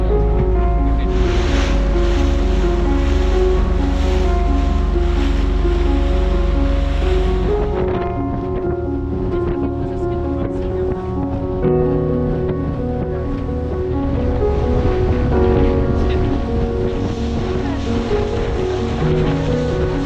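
Indian Ocean waves and wind wash steadily around a boat off Sri Lanka, a loud, continuous roar with a droning engine-like hum underneath.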